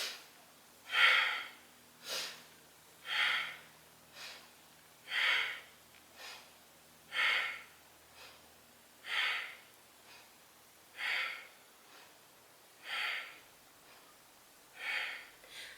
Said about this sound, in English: we're breathing both through the nose in and out